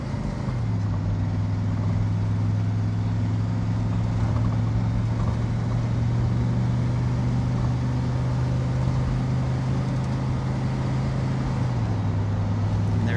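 A 1991 Chevrolet Suburban 1500 4x4 with the 6.2 diesel accelerating hard onto a highway, a steady loud low engine drone that climbs slowly in pitch with a shift near the end, under constant road and wind noise.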